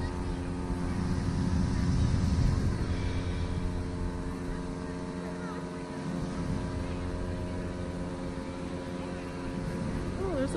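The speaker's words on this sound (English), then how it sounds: "the airplane's coming in." An airplane flies overhead at an early-morning hot air balloon event, a loud, continuous engine roar that swells and fades slightly over outdoor crowd noise, with voices talking nearby.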